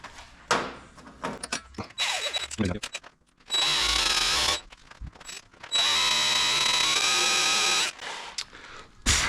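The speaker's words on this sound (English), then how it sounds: "you don't have to drill all the way through if you're doing it this way" A power drill whines up close in several bursts of varying length, drilling into the steel frame of a 1966 Ford F100, with clattering and handling noise in the pauses between.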